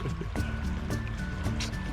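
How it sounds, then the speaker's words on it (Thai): Strong running water pours steadily during a cold bath at a homestay in northern Thailand, a continuous close rushing flow with a few splashy bursts and no talk. "วันนี้น้ำไหลแรงดีครับเย็นดีครับ"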